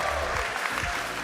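Audience applause at the Rocket League World Championship group stage rolls on steadily for about a second, a dense continuous wash of clapping from a large crowd in the arena, with no clear individual claps.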